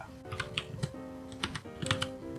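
Typing on a computer keyboard, with a quick run of crisp clacking keystrokes in an irregular rhythm, close and clear, with no voices.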